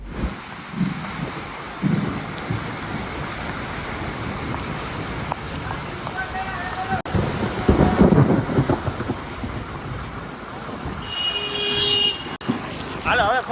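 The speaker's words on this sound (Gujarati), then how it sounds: "આમ જો ફૂલ પવન ચાલુ છે અને વરસાદ ચાલુ છે." A thunderstorm brings heavy rain and strong wind during a road trip by car, with rumbling thunder, gusty roaring and constant rain on surfaces close by, and voices briefly audible under the storm.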